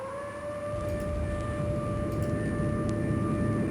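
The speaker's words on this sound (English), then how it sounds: "That's the air siren." A steady air raid siren wails in a Titanic adventure video game, holding a sustained tone with harmonics over a low rumbling background, loud and continuous with no talking.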